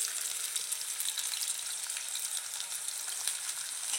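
Onion, green chillies and curry leaves fry in a hot pan with a steady, continuous sizzle that stays even and close throughout, with no talking.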